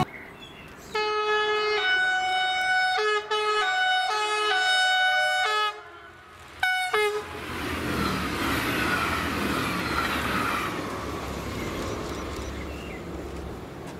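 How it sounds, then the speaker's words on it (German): Two coupled Danish DSB MF diesel trainsets running as an Intercity pass through a rural crossing station on the Hamburg–Puttgarden line, sounding a loud, sustained two-tone horn in bursts, then a rushing roar of wheels and engine. "Hier durchfahren MF 5092 und 5086 als Intercity 2500 den Kreuzungsbahnhof Rathetau."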